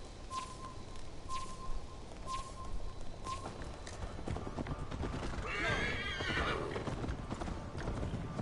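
Galloping hooves in the Assassin's Creed Valhalla video game, a steady rhythmic clip-clop with a horse's whinny rising midway, under faint ambient sound and occasional tonal game cues.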